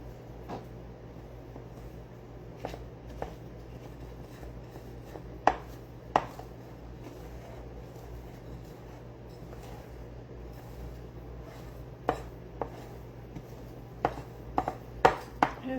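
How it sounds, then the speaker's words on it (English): Thick M&M cookie dough being stirred with flour in a bowl, a low muffled churning with scattered sharp clicks and knocks of the spoon against the bowl, close and without talk. "It's getting harder and harder to stir."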